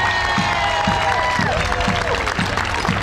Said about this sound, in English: I want to start off by a big round of applause for the Farnsworth's